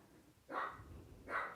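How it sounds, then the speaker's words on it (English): Two distinct dog barks, spaced apart, sound from a distance over quiet room noise. "We're just gonna let her bark."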